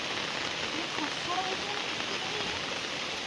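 Steady rain pours down outdoors in rural Odisha, a continuous broadband hiss with no breaks, loud and close throughout.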